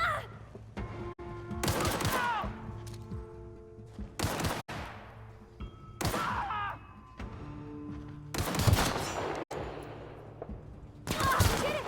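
Gunfire in The Outer Worlds, sharp loud bursts of shots and volleys spaced every second or two across a running firefight, with echoing tails and game sounds between.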